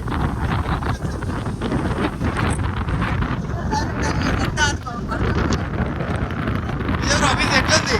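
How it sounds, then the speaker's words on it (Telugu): Strong stormy wind buffets and roars across the microphone in continuous gusts at Chennur Agastheeswara temple, with voices faintly underneath. "గాలి అయితే వస్తున్నది."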